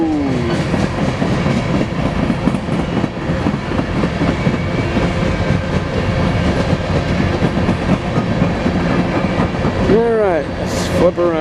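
BNSF SD70ACe locomotive 8568 hauls an eastbound coal train past in Spokane Valley, a loud continuous rumble of rolling cars with rhythmic clickety-clack and a brief wheel squeal near the end.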